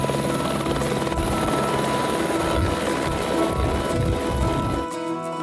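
Loud, steady helicopter rotor and engine noise from inside the aircraft, continuous throughout with a dull throbbing beneath, easing slightly at the very end.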